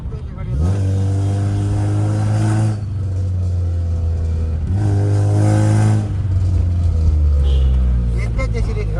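Motor vehicles passing close by on a road, engine tones rising and falling as two separate surges sweep past over a steady engine drone.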